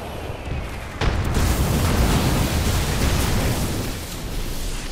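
A frag grenade detonates in Apex Legends with a sudden loud blast, followed by a broad, sustained rumbling roar that lingers for several seconds.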